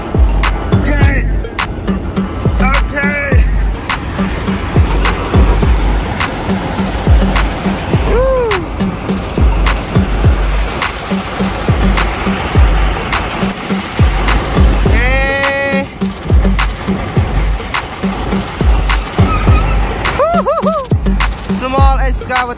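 A toy Cat excavator truck rolls along with a steady, gritty rumble of small wheels on a hard surface. Repeated clicks and rattles sound up close, and excited voices talk over it.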